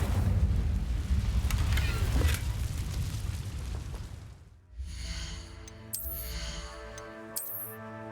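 An Incendio fire spell is cast in the video game Hogwarts Legacy, producing a loud, roaring whoosh of flame that rumbles for about four seconds before fading into quieter game music.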